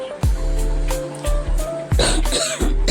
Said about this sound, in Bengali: ভয়েস দিতে গিয়েও আমার কাশি চলে আসছে